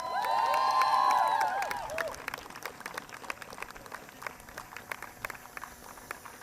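Crowd applause at a women's inter-state cricket tournament ceremony honoring the Sikkim Cricket Association, scattered claps continuing after a loud whistle-like squeal fades in the first two seconds.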